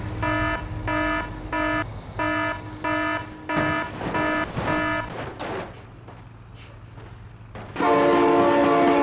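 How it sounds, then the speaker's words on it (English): Train horn blasts in the BeamNG driving game, a series of loud rhythmic toots followed by the rumble of a passing train, ending in a louder sustained horn blare. "Oh my god, train!"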